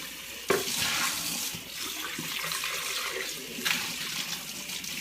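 Tap water gushes steadily into a smoothie blender to rinse it out, a close, continuous splashing hiss with slight surges as the flow shifts.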